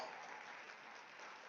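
A crowd at a community event applauds, a brief, even burst of many hands clapping at moderate distance with no talk over it.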